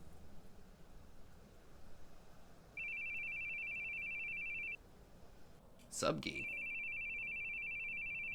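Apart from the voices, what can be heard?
phone ringing in The Boogieman video game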